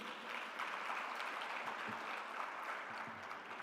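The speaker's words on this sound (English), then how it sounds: "Let's give them a round of applause." Audience applause at a presidential inauguration ceremony for an engineering organisation, a steady, dense wash of clapping from a large crowd that holds evenly throughout.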